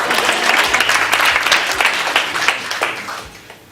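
Applause from a live audience at a storytelling talk, a steady wash of many hands clapping that carries on for several seconds and tapers slightly toward the end.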